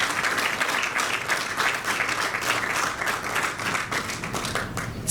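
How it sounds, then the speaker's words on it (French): Gala audience in an event hall applauding, a dense steady wash of many hands clapping throughout, with no talk over it. "vous allez vous applaudir une fois de plus."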